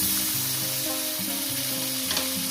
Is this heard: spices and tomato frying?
yes